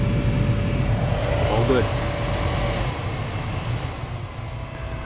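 A replacement blower motor in a 2006 Toyota Sienna runs with a steady, loud whooshing hum and a constant tone, while a person briefly speaks over it.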